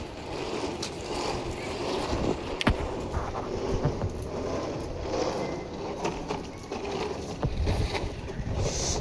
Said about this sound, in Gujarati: પવન મસ્ત છે.